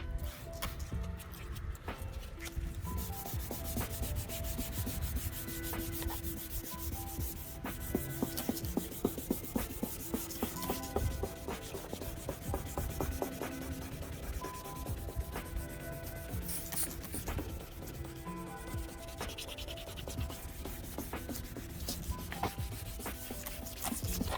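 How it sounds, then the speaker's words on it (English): Hand sanding an oxidized headlight lens on a 2008 Hyundai, a steady close scratchy rubbing that continues without a break throughout, with no talk. "just sand it a little bit more in that specific spot"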